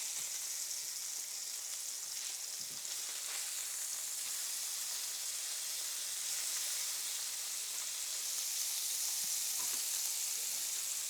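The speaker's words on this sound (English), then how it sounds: "All right, we're gonna flip them now." Burger patties sizzle steadily in bacon grease and butter after being flipped, a continuous bright frying hiss with no voices, holding even and fairly loud throughout.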